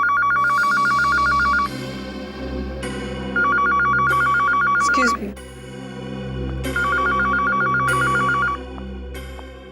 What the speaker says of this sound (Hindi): ये फोन की घंटी बिल्कुल सही टाइम पर बजी